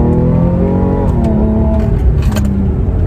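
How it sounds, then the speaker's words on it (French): Porsche 997 phase 2 Carrera GTS Cabriolet engine pulling loudly under way, its note rising and shifting through gears with steady, close, continuous drive noise. "Et enfin 997 en phase 2, du coup Carrera GTS Cab, j'adore cette voiture."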